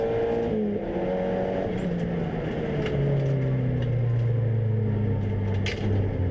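A race car engine roars loudly and steadily as it blasts away from the start at Donington Park, with pitch climbing through the gears and a continuous dense engine note throughout.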